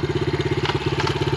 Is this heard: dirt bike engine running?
yes